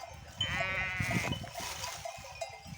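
Sheep bleating close by, a long wavering bleat from a lamb or ewe followed by shorter calls, with faint background rustle.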